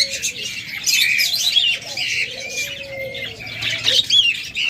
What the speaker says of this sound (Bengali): কোকাটেল দেখাচ্ছি দেখুন দেখুন নটা কি সুন্দর মিটিং কল দিচ্ছে